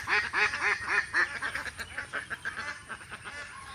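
A large flock of ducks quacks repeatedly inside a spacious enclosure on a duck farm, the calls close, loud and overlapping in quick rhythmic bursts.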